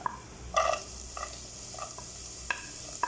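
A utensil stirs chopped garlic and carrot in a pan for an oats dish, making several distinct scraping strokes over a soft, steady sizzle.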